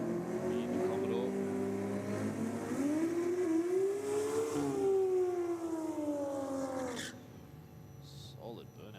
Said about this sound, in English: Solid burnout from both cars.